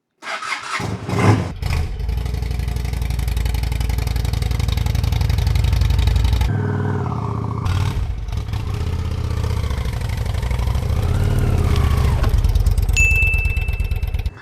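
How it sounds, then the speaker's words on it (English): A 2006 Honda Shadow VT750 motorcycle cold-starts close by: the engine cranks and catches, then settles into a loud, steady idle for about fourteen seconds, with one brief dip partway through. "How'd you like that cold start?"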